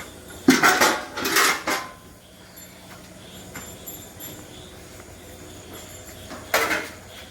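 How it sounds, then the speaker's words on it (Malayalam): Metal feeding vessels in a cow shed clank and scrape as they are moved away, a few loud clattering bursts over a steady rumbling background. "പാത്രങ്ങളൊക്കെ എടുത്ത് മാറ്റാം"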